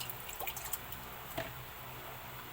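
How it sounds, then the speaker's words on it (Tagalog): A small trickle of water pours briefly into a cooking pot, with a few soft drips, over a steady background hiss. "Lagyan natin ng kaunting tubig."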